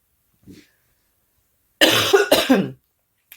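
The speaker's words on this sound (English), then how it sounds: "As you can expect by the coughing" A person with a cold and fever coughs in two harsh, close bursts after a faint earlier throat sound, with silence between.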